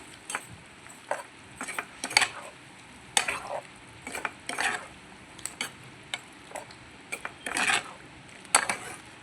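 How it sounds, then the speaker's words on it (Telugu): Prawn curry seasoned with turmeric and chili powder gets stirred in a pan: repeated scraping strokes of a spoon against metal over a steady sizzle, close and fairly loud, with no talking. "పసుపు కారం ఎంత తింటారో అంత వేయండి ఒకసారి మొత్తం కలిపి తిప్పుదాం"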